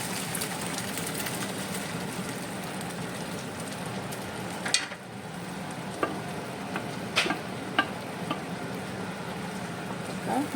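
Whole masoor dal tipped into a hot pan of sautéed chopped tomato masala and stirred, giving a steady close sizzle with a few scraping clicks of the spoon and no talking.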